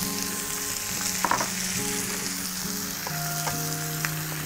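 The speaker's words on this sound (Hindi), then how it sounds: "जब ऑनियन फ्राई हो जाएगा तो हम इसमें कुछ अपने दूसरे इंग्रेडिएंट डालेंगे।" Chopped onion fries in olive oil with a dense, continuous sizzle and occasional clicks of stirring close by, no voices.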